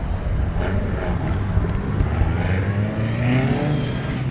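Cars revving at a drift circuit during the TurnerFest North motorsport event, a steady engine roar with rising and falling pitch sweeps, heard from a short distance without talk.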